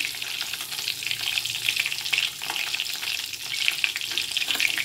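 Cumin seeds frying in hot oil for a vegetable curry give a steady, dense sizzle with crackling bursts throughout, close and continuous, with no talk.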